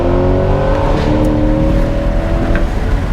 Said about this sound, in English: you hear that exhaust and that crack when it upshifts